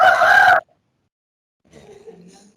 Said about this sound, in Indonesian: Wah, ini ada suara burungnya nih. Ada suara burung siapa ini?